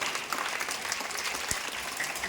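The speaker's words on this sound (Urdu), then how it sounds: "میں تمام بچوں سے تالیاں بجانے کا کہوں گا کہ بچے ان کی ہمت افزائی کریں" A group of children applauding, dense steady clapping at close range filling the brief moment without pause.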